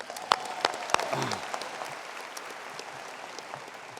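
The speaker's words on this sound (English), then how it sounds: "I want to give a round of applause for those wonderful singers." Applause from a commencement crowd at a graduation ceremony, a few loud claps up front over a broad wash of distant clapping that fades to a low murmur.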